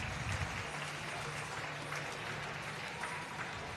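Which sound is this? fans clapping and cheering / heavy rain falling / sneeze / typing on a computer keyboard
fans clapping and cheering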